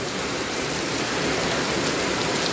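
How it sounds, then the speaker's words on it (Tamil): Heavy monsoon rain pours down steadily outdoors, a loud, dense, continuous hiss with no voices over it. "அப்படியே நீங்கள் வந்து மழை பெய்கிறத பார்க்கலாம்"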